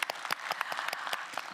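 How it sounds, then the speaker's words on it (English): A conference audience applauds its speakers, a short burst of dense, steady clapping heard fairly close, without any talk over it. "Could we have a round of applause for all our speakers?"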